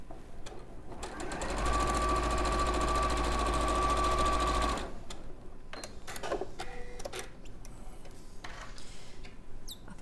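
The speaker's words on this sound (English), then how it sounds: "drawing that line means it's easy to follow as it works its way through the foot on my sewing machine" A sewing machine runs steadily for about three seconds as fabric is fed along a drawn line under the foot, loud and close, followed by fainter handling clicks and rustles.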